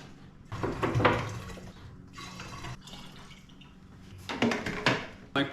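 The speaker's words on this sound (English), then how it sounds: "Now we go in with the water." Water is poured into a sprayer mixing container that already holds mosquito-control chemicals, giving close, splashy gushes in several bursts with short pauses between them and no talking.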